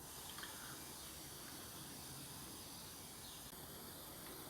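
Light spray of water misting onto soil in a container tub for sowing carrots, a soft steady hiss running throughout at low level with no talking.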